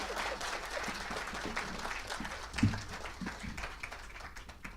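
Audience applause at the ANANTA 2024 valedictory ceremony in a hall, continuous many-handed clapping at moderate distance with a brief louder knock midway, fading slightly toward the end.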